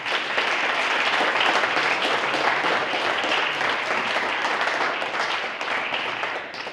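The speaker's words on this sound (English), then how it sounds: "Give yourself a round of applause" Marching band members at an awards ceremony clap in sustained, dense applause that holds steady and loud throughout, easing slightly near the end, with no talking over it.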